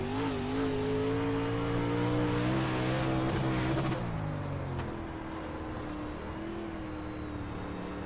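A Pro Late Model race car on USA International Speedway, its engine droning loud and steady with rising and falling pitch through the corners, then dropping slightly in level as it carries on at speed.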